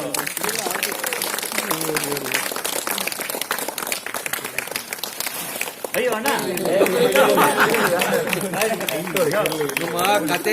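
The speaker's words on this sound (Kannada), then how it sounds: "ಮಾಡೋಣ ಚಪ್ಪಾಳೆ ಬರಲಿ" An audience at a special show of the Kannada film Hikora claps, with scattered applause and chatter building into louder, denser clapping partway through.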